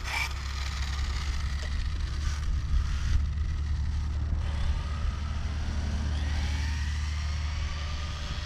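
Arrma Typhon RC car with SpeedTek spool and diff lockers running at speed, a steady buzzing motor whine with rising and falling revs over constant low rumble and outdoor noise, no speech.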